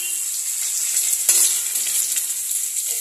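Eggs frying in a pan for an egg curry give off a steady, close hissing sizzle with a brief louder crackle partway through and no talking.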